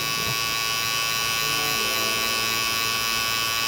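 Electric hair clippers drone steadily during a low fade self-haircut, a loud close buzz that holds nearly constant for the whole stretch with no talking.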